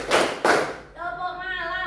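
Schoolchildren in a classroom rhythm game give two sharp, loud group claps close together, then a voice speaks.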